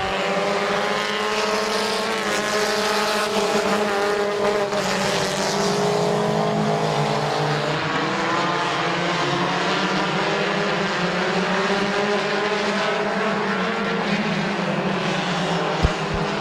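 Compact race cars at Midvale Speedway roar through a 2017 feature race, a steady, loud blend of several engines at high revs with shifting pitches as cars jostle for the lead, with no voices.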